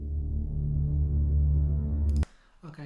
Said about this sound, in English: For instance, let's pick up this drone kind of sound.